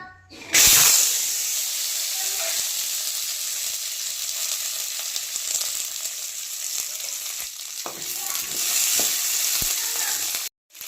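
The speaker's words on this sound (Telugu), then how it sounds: "నూనె వేడైంది ఇందులోకి ఇప్పుడు పచ్చిమిర్చి వేసుకుందాం" Green chilies hit hot oil for a hotel-style peanut chutney and sizzle loudly and steadily for about ten seconds, then cut off abruptly near the end.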